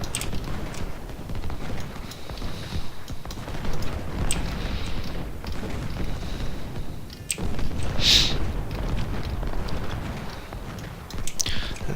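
Cannons and artillery firing continuously in a Civil War battle video game set at Antietam, a rumbling barrage of booms and crackling musketry under dense battle noise, with one sharper blast standing out midway.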